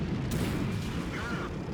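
Tank cannon fire in World of Tanks, a VK shelling a building: a sharp blast near the start, then a dense low rumble and debris-like noise that carries on loudly for the rest of the moment.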